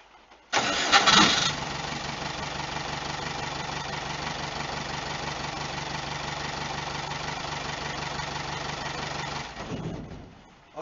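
A VW T3 van with a 1.9 TDI diesel engine and a Bosch VE injection pump cranks briefly, catches and settles into a steady, loud diesel idle, then cuts off near the end.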